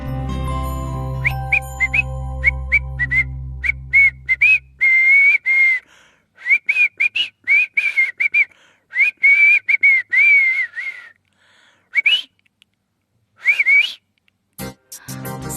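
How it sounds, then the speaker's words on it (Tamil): A person whistles a song melody, with a string of short, clear whistled notes and brief pauses, following a fading musical tone at the start and ending in scattered clinks. "இப்போ நான் ஒரு பாட்டை விசில் பண்ணியே காமிக்கிறேன்"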